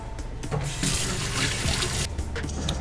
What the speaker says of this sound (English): it's important to wash your hands